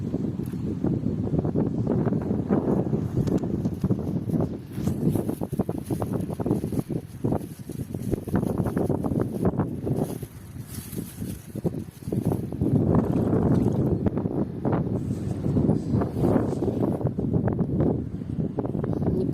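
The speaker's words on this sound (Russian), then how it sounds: "Ужас, какой ветер сегодня," Strong sea wind buffeting an outdoor fishing spot on the shore, gusting and roaring against the microphone in loud uneven surges that swell and drop throughout, with no voices.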